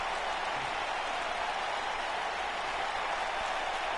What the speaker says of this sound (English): The capacity crowd.